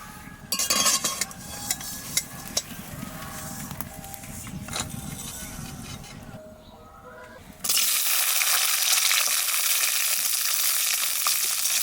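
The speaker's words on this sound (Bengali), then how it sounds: "রসুনটা একটু ভাজে নিলাম" Garlic frying in a pan crackles and sizzles loudly, with stirring scrapes and clinks early on, then a dense, even hiss that steadies for several seconds.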